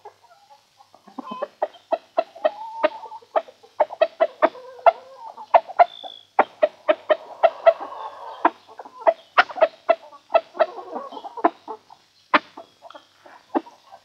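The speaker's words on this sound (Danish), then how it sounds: "Hvorfor stiger den høne sådan op? Det er fordi, ja, hun har lige gjort æg, hun kavler." A farmyard hen cackles loudly after laying an egg, a long run of sharp, rapid clucks rising into excited bursts, close and dominant for over ten seconds with little else heard.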